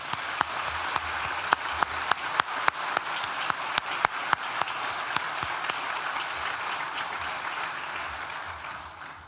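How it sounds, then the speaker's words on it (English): Audience at an NTU graduation ceremony in a large hall gives a full round of applause, with dense, steady clapping throughout and a few sharper individual claps standing out near the start before it slowly thins. "Please join me in thanking them with a well-deserved round of applause."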